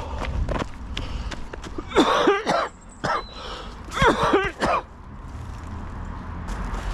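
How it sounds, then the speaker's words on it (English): A person with a lingering chest infection coughs in harsh bursts, with two clusters of heavy, hacking coughs separated by short gaps, close and loud over a steady background rumble. "I'm about to cough my guts up."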